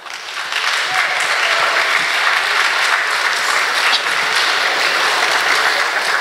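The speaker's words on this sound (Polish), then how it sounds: "Brawa, brawa." An audience at a choir and adult ensemble festival in Tuczna applauds the folk group Kalina from Perkowice. The clapping is loud and dense and starts within the first half second. It then carries on steadily without a break and no one speaks over it.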